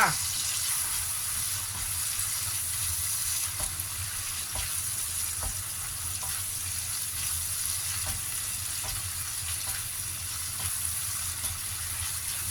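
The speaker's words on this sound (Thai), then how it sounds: "น้ำมันงานนิดนึง ผัดก่อนจ้า" Tofu dish ingredients fry in a little sesame oil with a steady, close sizzle and occasional stirring clacks. The sound is continuous throughout.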